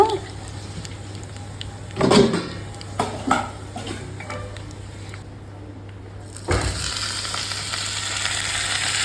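Dried red chillies frying in hot oil with urad dal, a soft continuous sizzle broken by loud clattering scrapes of a spoon against the pan and a low steady hum.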